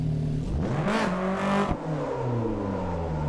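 A front-wheel-drive car in the Gunsai touge VR racing game, its engine droning steadily with rising and falling revs, a brief surge near the middle, then settling into a constant hum.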